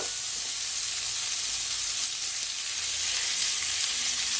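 Onions hit a hot pan for fried cabbage and sizzle steadily, a loud, continuous close-up frying hiss with no voices over it.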